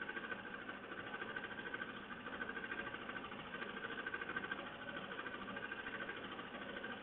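A Melco embroidery machine stitches a 5,000-stitch design in a hoop, giving a steady, continuous mechanical whirring hum with a fast repetitive rhythm throughout, fairly close and moderate in level, with no talking.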